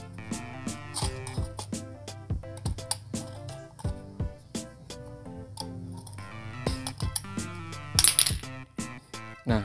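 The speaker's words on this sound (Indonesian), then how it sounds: "Jadi untuk memotongnya kita pakai gunting aja." Scissors cut through thin soft drink can metal for a miniature Vespa body, a rapid series of crisp, ringing metallic snips and crunches close by, irregular in rhythm with short pauses.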